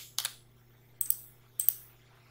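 Keys are pressed on a computer keyboard during a Ctrl V paste while designing in CorelDraw, three quiet, separate double clicks spaced evenly over a faint background hum.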